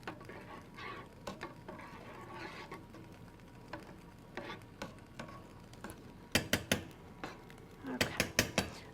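A spoon stirs creamy tomato soup in a pot, with soft scraping and faint clinks of metal against the pot's sides, then sharper knocks in quick clusters near the end, all fairly quiet and close.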